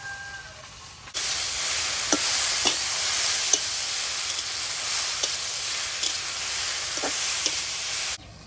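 Prawns dropped into frying onions in a pan for a chilli prawn dish, a loud continuous hiss and sizzle with sharp spatula scrapes every second or so, alone without talk.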